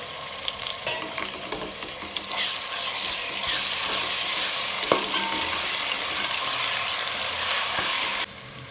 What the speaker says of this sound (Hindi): अब इसमें 1 खाने का चम्मच लहसुन अदरक का पेस्ट ऐड करेंगे।